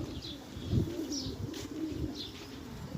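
Pigeons kept in a coop coo softly and repeatedly nearby, low throaty calls with a few brief chirps and a faint rustle of wings, with no talking.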